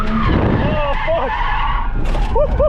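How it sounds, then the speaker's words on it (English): Ford AU Falcon drift car spinning out, tires squealing in rising and falling skids over a loud engine, close and intense, with short bursts of screech near the end. "that's a big spin out"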